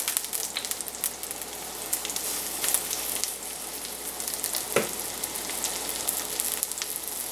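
Lentil fritters frying in oil in a pan, a steady close sizzle and crackle with brief louder spits, running throughout with no talk.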